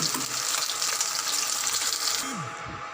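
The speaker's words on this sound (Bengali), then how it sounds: "এই যে মাছগুলো প্রায় ভাজাই হয়ে এসেছে" Fish pieces frying in hot oil in a pan, a dense bright sizzle close up and steady, easing slightly near the end with a brief scrape.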